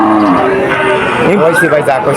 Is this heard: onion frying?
no